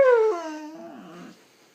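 A dog lets out a close, high whimpering whine that slides downward and fades into quieter, breathy whimpers before trailing off.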